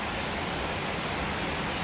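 Steady rain falls with a dense, even broadband hiss that fills the short stretch without a break, and no voices or other sounds stand out.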